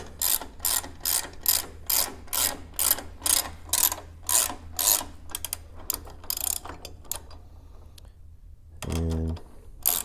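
A ratchet tightens a bolt on a tube chassis jig with a long run of quick, regular clicking strokes up close, then a brief pause and a short low rumble near the end.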